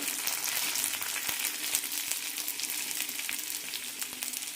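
Peanuts and roasted split chickpeas frying together in hot oil in a pan, a steady close sizzle with soft crackles and occasional light stirring clicks, no voices.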